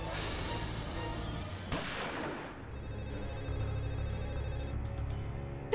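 A telephone rings in repeated electronic bursts, pulsing over tense dramatic background music that shifts midway into a droning, beat-driven score, with no voices over it.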